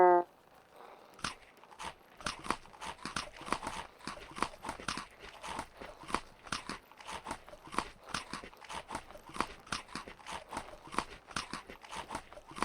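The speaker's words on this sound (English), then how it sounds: "I'm still not sure why we have to have sounds of somebody chewing when we're eating foods" Chewing sound effect played on a livestream: steady, crisp crunching bites repeating in a fairly even rhythm for several seconds, close and fairly quiet, with no talking.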